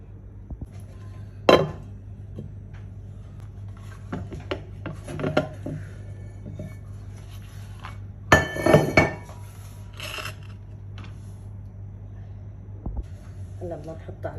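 A freshly baked orange cake turned out of its pan onto a plate, with sparse clinks and clatters of metal and dishware, a few louder knocks and scrapes, and a person talking throughout.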